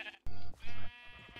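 Sheep bleating in the Minecraft video game, two drawn-out, loud bleats in quick succession, the second followed by quieter game sounds.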